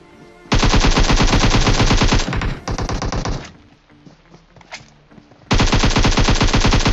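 Loud automatic gunfire during a PUBG video game fight, rapid machine-gun bursts that stop briefly, give way to softer scattered shots, then return in another sustained volley.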